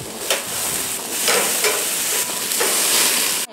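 Jamaican jerk ribs sizzle on an outdoor grill, a dense, continuous crackling hiss with small pops and surges, fairly close and loud, with no talking.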